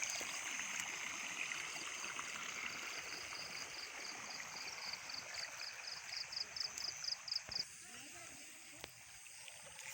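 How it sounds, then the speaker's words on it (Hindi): Steady rushing floodwater flows continuously across rice fields from one side to the other, a broad outdoor wash with faint ticking and light background noise. "क्योंकि खेतों से पानी एक साइड से दूसरी साइड जा रहा है।"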